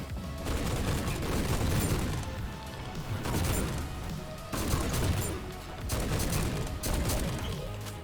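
Assault shotgun blasts in the first-person shooter GTTOD: Get To The Orange Door, fired in repeated heavy, punchy bursts with crashing impacts in a loud, busy game mix.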